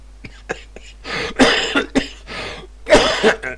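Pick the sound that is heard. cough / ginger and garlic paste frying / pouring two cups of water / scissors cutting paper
cough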